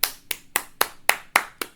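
Slow, evenly spaced claps, about seven in a row, crisp and fairly close, sounding like a single pair of hands or a small, unenthusiastic group clapping in a sparse rhythm.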